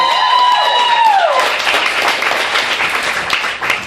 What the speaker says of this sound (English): I want to just say a round of applause for them for putting this all together